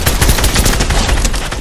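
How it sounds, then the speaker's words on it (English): Rapid automatic submachine gun fire in a video game rattles in a continuous loud burst, dense bursts of shots with no pause, heard alone without voices. "That's the sound of a SMG."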